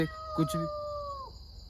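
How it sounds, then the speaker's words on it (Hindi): A cat yowling at night, one long wavering tonal cry that slides slightly downward and fades after about a second, with a brief burst of human voice near its start. "बिल्लियों की आवाज़ आने लगी यहाँ पे।"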